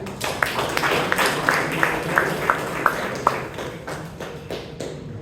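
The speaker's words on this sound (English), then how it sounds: "Let's have one more round of applause for Toastmaster Ravi." Applause at a club meeting patters fairly softly, with a few sharper individual claps standing out in a steady rhythm, thinning toward the end.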